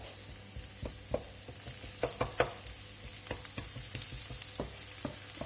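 Shallots browning in a frying pan for a creamy mushroom chicken sauce give a steady close sizzle, broken by irregular clicks and scrapes from stirring, with no talking.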